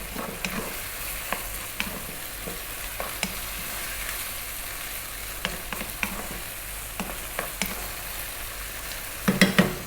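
Ground beef meat sauce with dried oregano sizzles softly in a pan while a utensil stirs it. Regular scraping taps punctuate the sizzle, ending in a burst of louder clatter.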